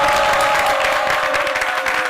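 Studio audience applause on a television talk-show set, a dense, even burst of clapping filling the whole moment with a faint tonal hum underneath.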